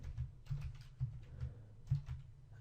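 Quick, light clicks of a computer keyboard during coding, a short burst of keystrokes in an irregular rhythm, close and quiet with no voices.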